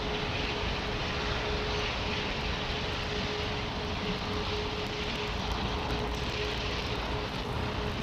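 Airliner engines throttling up at London Heathrow Airport, a steady, broad roaring drone with a faint whining tone running through it, constant in level and without voices.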